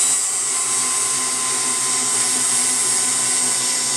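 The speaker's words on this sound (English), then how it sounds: "So I'm going to just slowly again drill this in a little ways." A power drill runs steadily as it slowly bores a screw hole through canvas, a continuous high whine at close range and fairly loud, without pauses or talking.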